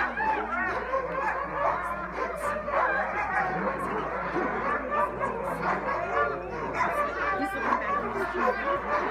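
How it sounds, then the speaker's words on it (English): Excited sled dogs barking and yipping at a dog sled demo in Denali National Park, a busy outdoor scene mixed with people chattering and laughing throughout. "Here comes the doggies."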